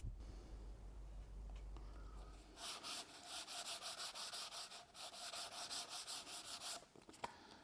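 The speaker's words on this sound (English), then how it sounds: "We're sanding our 18mm tube here." Rhythmic back-and-forth rasping of sandpaper rubbing an 18mm fiberglass rocket airframe tube, steady strokes repeating for several seconds up close after a low rumble at the start.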